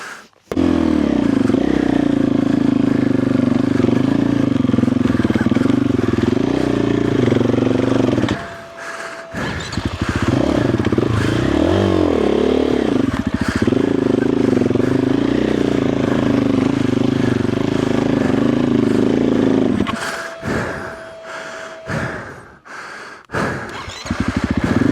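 A dirt bike fitted with a Dobeck EJK fuel-injection jetting kit and a Fastway ProMoto billet end cap revs loud and close, a sustained engine drone with swells and dips and short pauses before revving again.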